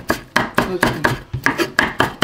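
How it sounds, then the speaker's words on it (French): A knife chops onions finely by hand on a board, ten sharp, evenly spaced strikes landing about every quarter second. The sound is close and fairly loud, with no talking over it. "Il faut couper finement les oignons."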